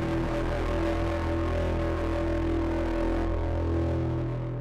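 A sustained, brassy horn sample in an electronic music production plays continuously and loudly with steady harmonics, holding a dense chord for several seconds before cutting off abruptly.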